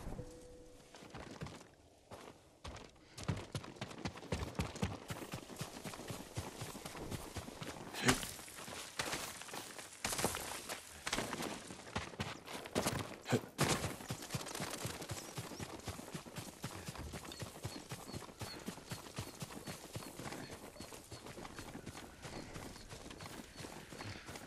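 Kage, a horse in Ghost of Tsushima, gallops with steady rapid hoofbeats that run close and loud for most of the stretch, with faint bird calls in the background.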